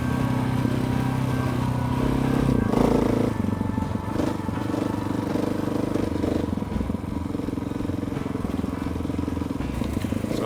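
A 2018 KTM 690 motorcycle rides a muddy, flowy wooded trail on Malcolm Island, its single-cylinder engine droning loud and close, with a shift in pitch early on and constant rattling and crunching from the ground.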